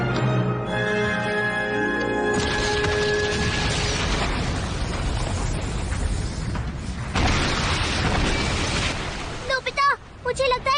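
A cartoon explosion from a Doraemon episode: a loud, sustained rumbling blast with crackling debris that fills several seconds, running under character voices and a musical score, then tapering into quieter chattering.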